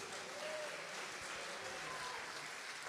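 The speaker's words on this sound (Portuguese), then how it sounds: "Bate uma salva de palmas para Jesus." A church congregation claps for Jesus at a Portuguese-language worship service. The steady, dense applause runs loud through the whole stretch.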